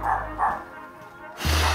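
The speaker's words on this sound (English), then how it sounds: "that's a real dog" A dog barks twice in quick succession, close and fairly loud, then a louder burst follows after a short quiet gap, heard during a house walkthrough.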